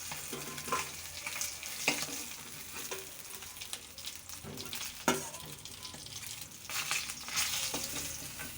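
Fish frying in oil in a home kitchen pan, a steady close sizzle with sharp crackles and spatters breaking through at intervals, heard alone without talk.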